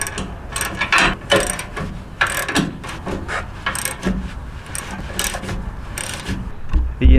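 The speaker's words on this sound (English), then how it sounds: "just hand tighten all of these little bolts below" Wrenching bolts on a boat trailer's new leaf springs gives close, repeated ratcheting clicks and metallic scraping in irregular bursts.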